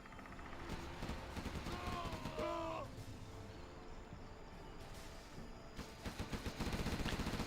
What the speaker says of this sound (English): that Gatling cannon's going to provide a nice bit of defense there.